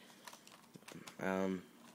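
Crisp key clicks from typing on the keyboard of an Apple PowerBook 5300cs laptop, a few scattered taps close up, followed by a brief steady tonal sound.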